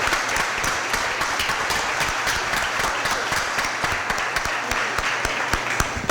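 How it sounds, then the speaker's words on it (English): An audience at a Board of Aldermen meeting applauds the mayor as she is brought forward, a steady, dense wash of clapping with sharp individual claps standing out, loud and continuous throughout. "I want you to join me in a great big round of applause for our mayor"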